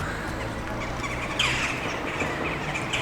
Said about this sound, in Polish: Wrony się z ciebie śmieją